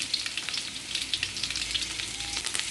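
Garlic frying in hot oil for spicy paper poha chivda, a steady, close crackling sizzle with fine popping that holds evenly throughout.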